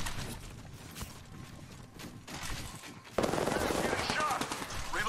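Rapid automatic gunfire crackles in an Apex Legends match, with bursts of shots that swell into a louder, denser volley partway through, heard alongside game chatter.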